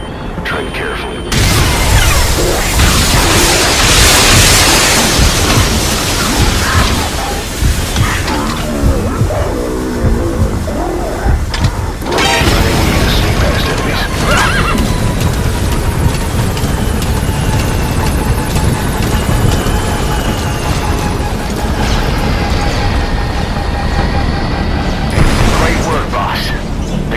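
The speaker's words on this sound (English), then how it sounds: "That's an enemy gunship. A single burst from his machine gun can cut a man in half." An enemy helicopter gunship in a Metal Gear video game roars loudly and continuously with rotor noise, mechanical clatter and bursts of heavy gunfire, while voices talk over the din.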